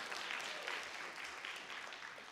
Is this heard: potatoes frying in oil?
no